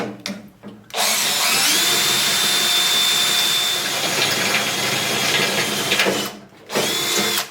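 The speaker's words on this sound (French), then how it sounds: "Là, il va falloir que je le perce avec la perceuse." An electric drill bores a hole through metal while fitting side skids on a Yamaha YS1028J snowblower, a loud, steady whine held for about five seconds, then a brief pause and a short burst.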